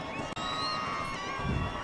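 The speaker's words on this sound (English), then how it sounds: "So the Placer crowd is asking for defense." Crowd at a high school football game between Placer Hillmen and Bear River Bruins, shouting and cheering for defense, a steady distant roar with a swell near the end.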